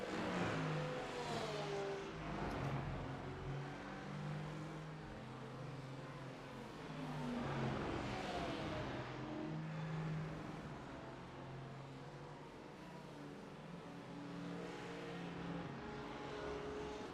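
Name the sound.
Mercedes race car driving at Sebring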